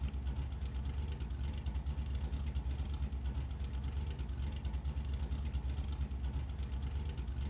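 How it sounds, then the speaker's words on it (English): Loud, steady truck engine droning continuously as the vehicle drives along a tree-lined rural road, a heavy low rumble filling the whole stretch with no pauses. "Is it just me, or is this truck obnoxiously loud?"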